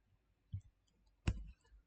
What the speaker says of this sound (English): Click on new chat.